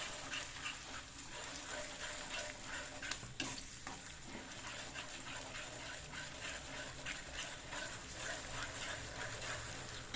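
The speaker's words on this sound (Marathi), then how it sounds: "आता ही 2 मिनिटं आपण परतून घेऊया" Field beans (vaal) for birda being stir-fried, with a continuous sizzle and soft stirring scrapes throughout, fairly faint and steady, without speech.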